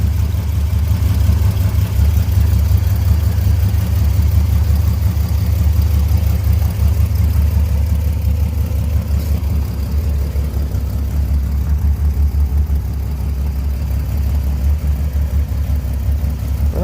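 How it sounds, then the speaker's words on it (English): A Chrysler Slant 6 engine idles low and steady just after a cold start, a continuous deep rumble close by with no talking. "idling pretty low."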